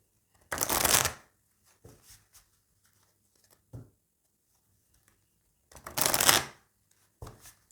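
Oracle cards are shuffled in two crisp riffling bursts, with softer taps and slides between them as cards are laid out. The sounds are close and there is no talk.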